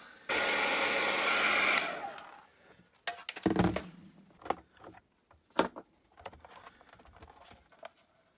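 A hair dryer aimed at a sticky Sinclair ZX81 keyboard blows loudly for about a second and a half, then cuts off, followed by scattered clicks and knocks.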